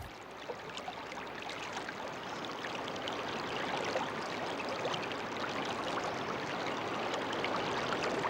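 Water in a stream flows among overhanging branches and rock walls, a steady broadband rush and trickle that holds at an even level throughout, with no voices.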